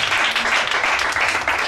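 Audience applause at a French-language religious quiz event, dense and steady clapping from a crowd throughout, fairly loud and close, with no talk over it.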